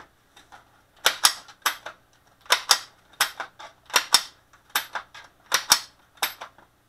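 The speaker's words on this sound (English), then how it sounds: "put the clip on the top and the magazine back on." Plastic clip and magazine snapped onto a Ruger 10/22 bullpup stock, a series of sharp, close clicks and rattles in quick irregular clusters, with no talk.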